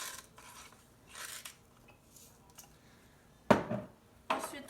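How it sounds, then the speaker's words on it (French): Dry crêpe ingredients stirred in a bowl: soft rasping scrapes and a few louder clinks of utensil against the bowl, close and intermittent with quiet gaps, no talking. "on mélange juste pour que ça soit devenu une poudre"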